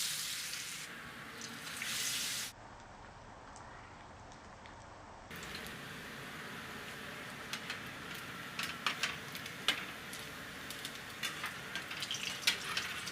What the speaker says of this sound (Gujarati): તો હવે આપણે તેલમાં નાખી દેવું.